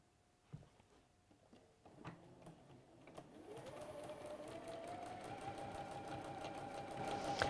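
Sewing machine chain piecing quilt block pieces, starting with a few clicks and short bursts before settling into a steady, fast rhythmic whirr that grows louder, close by.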